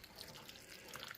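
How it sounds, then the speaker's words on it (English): Ice water trickling into a bowl of beer batter, a faint, steady pouring splash close by with no voices. "And now I'm going to add some ice water in here, a little bit at a time."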